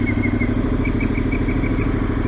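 Midsize fuel-injected motorcycle idling on a warm day just after starting: a steady low engine rumble with an even mechanical clatter and a faint periodic whine, close and constant throughout.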